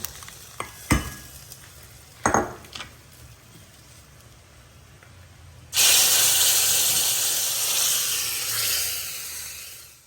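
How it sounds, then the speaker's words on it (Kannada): Mustard seeds for tempering pop in hot oil with a few sharp, scattered cracks, then a loud, steady, hissing sizzle takes over and slowly fades; no voices. "ಈಗ ಸಾಸಿವೆ ಚಟಪಟ ಅಂತ ಸಿಡಿಯೋದಕ್ಕೆ ಸ್ಟಾರ್ಟ್ ಆಯಿತು"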